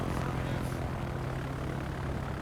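Droning propeller engines of carrier aircraft in the naval combat game World of Warships, a steady mid-loud buzzing hum that continues unbroken and alone.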